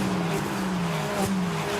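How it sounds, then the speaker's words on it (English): Ferrari 296 Challenge race cars sweep past a trackside position at Barcelona during a Ferrari Challenge Europe race, a steady loud engine drone with a sustained tone and rising pass-by swells throughout. "the sound of these wonderful 296 Challenge cars as they go past our camera position"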